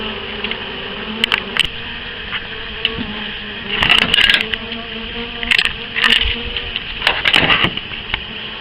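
A steady drone of many bees buzzing close by, swelling in bursts, with occasional light knocks and taps.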